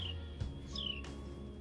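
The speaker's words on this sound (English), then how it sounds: "Hear that bird, Brian?" A bird calls in a backyard vegetable garden with a few faint, thin chirps and a short descending whistle, heard at a distance over quiet outdoor background.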